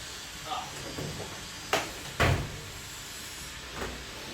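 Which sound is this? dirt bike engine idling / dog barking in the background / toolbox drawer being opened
toolbox drawer being opened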